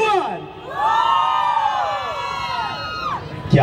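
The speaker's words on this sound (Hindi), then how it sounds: "लड़कियां एक बार यहाँ पर अपनी एनर्जी शो करेगी, come on all the girls, 3-2-1 countdown पर हूटिंग करेगी" A crowd of girls at a government event in Indore, Pravasi Bhartiya Divas, hoots and cheers after a countdown: a loud burst of high, overlapping shrieks and whoops that swells, holds for a few seconds and then trails off.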